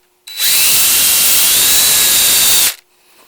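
Power drill boring and tapping a hole in a metal bracket for an electric choke conversion on a 1968-72 Pontiac; one loud, steady whine runs close up for about two seconds, then stops abruptly.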